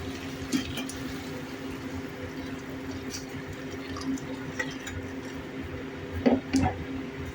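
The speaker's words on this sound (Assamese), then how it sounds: "এতিয়া মই ইয়াতে পানী ঢালি দিওঁ।" Water poured into a pan of frying mutton for curry, a soft low bubbling and sizzle that swells briefly near the end, steady and close with no voices.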